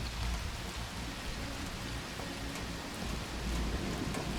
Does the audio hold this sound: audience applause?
no